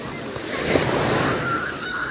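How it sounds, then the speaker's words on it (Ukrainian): Warm sea waves wash onto the Odesa coast in a steady, close roar of surf, with wind rushing across the microphone and no voices. "Лазурне море, хвилі."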